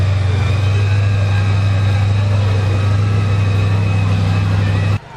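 A Chevy Chevelle with a Wade supercharger idles loud and close at a classic and American car show, a deep steady rumble holding for about five seconds before cutting off abruptly.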